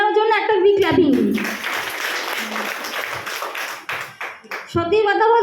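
An audience claps together in a sustained burst of applause at a Sapphire director's event, beginning under a speaking voice and fading before the talk resumes.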